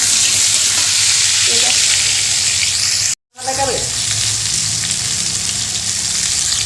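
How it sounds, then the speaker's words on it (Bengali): Pumpkin fries in a hot pan with a constant close crackling sizzle, broken by a brief dropout in the middle, while a voice murmurs briefly in the background. "কুমড়োটা ভেজে নেব"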